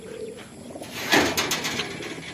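Taiwan-breed pigeons coo in a soft, low burble up close, swelling into a fuller throaty coo midway, with a faint background hum.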